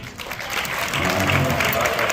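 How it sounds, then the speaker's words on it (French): Sustained applause from an audience at a gala fundraising dinner for religious institutes, a steady dense wash of clapping that swells slightly and holds throughout, with faint voices mixed in. "Là, on vient d'applaudir."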